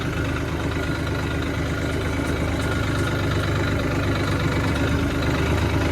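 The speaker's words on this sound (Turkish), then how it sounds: "Traktör işte her yerden geçiyor çocuklar." A tractor driving off-road gives a loud, continuous diesel engine rumble that drones steadily throughout, close and unbroken, with a rough low throbbing texture and no voices.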